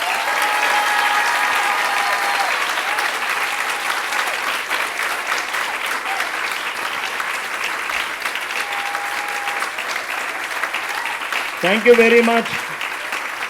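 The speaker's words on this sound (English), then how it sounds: "Just one more time, please give them one big round of applause." A crowd gives sustained applause after a performance at a Sunday Hare Krishna festival program in Alachua, steady and fairly loud, and near the end a voice thanks them over the clapping.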